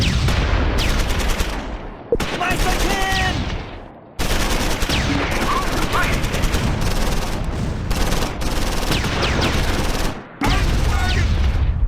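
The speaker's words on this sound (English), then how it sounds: "More grenades at the Kommandowagen." Grenades and gunfire hit a Kommandowagen in the Close Combat 4 World War II game, set at Losheim during the Battle of the Bulge. Loud, dense bursts of shots and blasts come in several blocks, with brief pauses between them.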